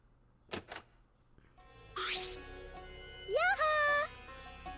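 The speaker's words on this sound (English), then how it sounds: "we heard the metallic clicking of a lock opening, and the door slowly opened." A metallic lock clicks open in a game scene, followed by a door slowly creaking open, with a rising tonal squeal near the end; a short thump sounds beforehand.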